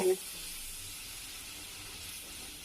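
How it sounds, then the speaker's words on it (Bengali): Water poured onto spices frying in a pan for a beef brain curry sends up a brief burst followed by a steady, hushed hiss of steam and sizzle. "পানি দিয়ে দিলাম"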